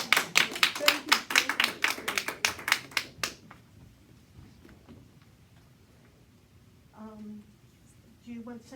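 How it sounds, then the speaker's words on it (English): Audience clapping at a masterclass, a burst of many hands that fades out within about three seconds, followed by quiet room sound and brief talk near the end. "Let's give him a round of applause."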